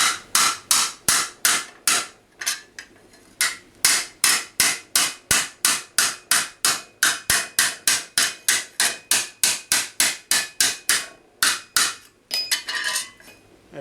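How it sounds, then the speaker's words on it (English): A hammer taps an armour crease over a lead block: a long, steady run of crisp metallic strikes at an even pace, close and loud, ending in a quicker flurry of lighter taps. "You could do it with a hard hammer, just go steady."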